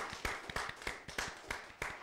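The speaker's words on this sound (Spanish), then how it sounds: "Aplausos, por favor." An audience applauds at a university's 165th anniversary program, with quick, uneven hand claps at moderate volume that sound like a fairly small crowd clapping steadily for two seconds.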